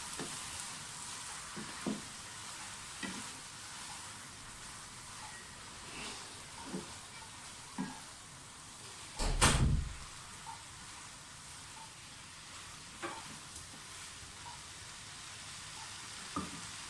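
Chicken vegetable spaghetti sizzles steadily in a hot pan while being stirred, a continuous close frying hiss broken by soft periodic scrapes and one louder clatter near the middle.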